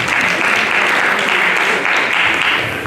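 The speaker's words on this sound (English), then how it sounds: "The round of applause for that please." A conference audience applauding steadily for about three seconds, dense continuous clapping with no talking over it.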